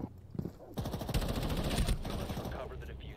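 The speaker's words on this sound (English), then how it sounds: "We're over here shooting the wall" Rapid automatic gunfire hammering a wall in the video game Rainbow Six, a dense burst of shots in the middle with faint voices around it.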